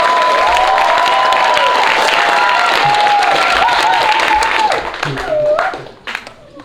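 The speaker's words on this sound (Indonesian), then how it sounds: "Ya, tepuk tangan yang meriah dulu" An audience at a language-month finalist competition applauding, a dense wash of clapping and cheering that fades out, with a voice talking over it.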